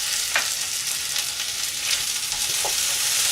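Green beans sizzle steadily in a pan as tomato paste is stirred in, with a few light spoon scrapes over the constant frying hiss.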